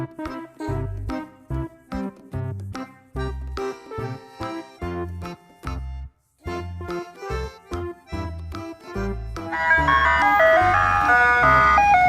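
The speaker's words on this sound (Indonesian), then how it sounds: "truk ice cream" An ice cream truck plays its chiming jingle, a loud, bouncy melody of evenly spaced notes that gives way near the end to a denser, noisier stretch of sound.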